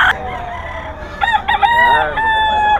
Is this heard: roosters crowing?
yes